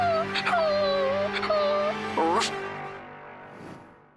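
A dog whimpers and yips in a string of high, wavering whines and short sharp cries, close and fairly loud, then fades to quiet near the end.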